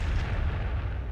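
Frag grenades going off in Warhammer 40,000: Sanctus Reach, a single dense, booming blast that sustains a low rumble for about a second with no voices over it.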